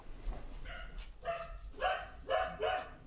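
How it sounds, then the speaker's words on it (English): Dogs bark outside, a few sharp barks and yips arriving in short bursts, somewhat distant and muffled. "Sorry about my dogs."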